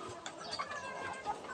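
Two sick chickens cluck softly and intermittently at close range, a few faint clucks against quiet background noise over a short moment.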